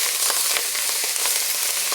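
Sweet potato and peanut butter soup is stirred in a hot pot, giving a steady, loud sizzling hiss that runs without a break. Faint scraping sits under it, and nobody speaks.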